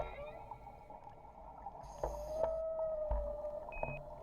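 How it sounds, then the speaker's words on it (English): Whale calls: long tonal moans and rising cries under water, quiet and distant-sounding, with a few low thumps and a soft watery hiss around them. "Then I heard another whale's call,"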